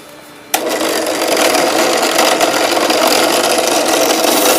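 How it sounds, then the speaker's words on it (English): Handheld power drill boring into foam popper bodies, starting abruptly and then running as a loud, steady, close whir that holds for several seconds. "You can do the same thing with a handheld drill."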